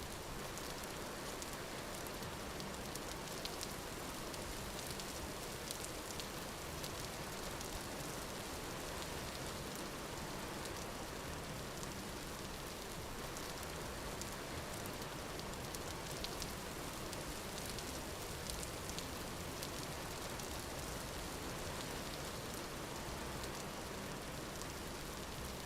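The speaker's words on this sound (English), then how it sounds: "Enjoy the sound of rain tapping on our rooftop." Steady rain tapping on a rooftop in the survival game Vintage Story, a dense, even hiss of falling drops that continues unbroken for the whole stretch with no talking.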